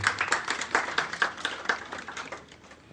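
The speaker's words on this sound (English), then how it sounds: "A big round of applause for Mr. Kusiajima." A burst of applause with distinct, fairly close claps that thins out and fades toward the end.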